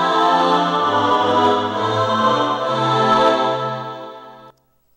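A computer-generated phrase in the style of a Bach chorale plays alone as sustained, layered harmonic chords with a steady low bass line, moving through several chord changes before cutting off abruptly near the end.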